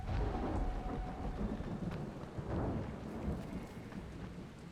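Thunderstorm in the game Dying Light: steady rain hissing on surfaces under deep rolling thunder rumbles that swell and fade over a few seconds.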